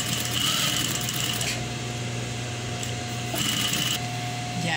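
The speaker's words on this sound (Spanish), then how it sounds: "Voy a pespuntar todo, toda la manga, ya." Sewing machine topstitching along a sleeve of a polo shirt: a rapid, steady mechanical whir in bursts with brief pauses between runs, close and fairly loud.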